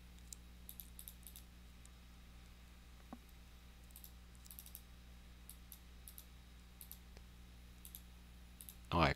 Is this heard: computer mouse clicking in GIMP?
yes